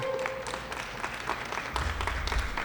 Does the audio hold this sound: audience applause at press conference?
yes